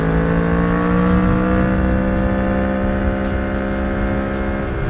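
A Yamaha MT10 motorcycle's inline-four engine holds a loud, close, sustained high rev, its tone sliding slightly as the revs shift, with no talking over it.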